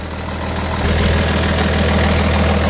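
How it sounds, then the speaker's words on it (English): A 2001 Dodge Cummins diesel truck idles close by. The engine gives a loud, steady low rumble with a rhythmic knock that swells a little after the first second, and no voices are heard. "Hopefully you can hear us over the loud truck."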